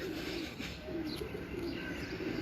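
Racing pigeons, a champion Lahore flying breed, coo softly and continuously in a loft, with faint chirps over a steady low background hum.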